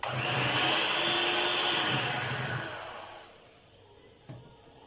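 An electric hand mixer whirs steadily through a cake batter of beaten eggs, sugar and vanilla essence, then winds down and stops, leaving a faint clack at the end.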